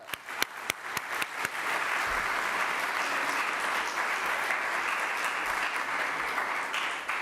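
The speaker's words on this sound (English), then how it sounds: "Today, let's applause for that." A crowd in a hall breaks into sustained applause for New York Governor Hochul at a state budget announcement, starting with a few scattered claps and swelling into steady, dense clapping that continues throughout.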